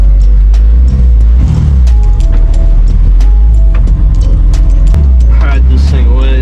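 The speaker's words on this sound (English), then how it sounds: "I'm gonna go ahead and move Christian's car back into the safety of the indoors." A BMW E46 330ci drift car idles and creeps forward as it is driven into a shop, with a loud, close, low engine rumble throughout and voices talking over it.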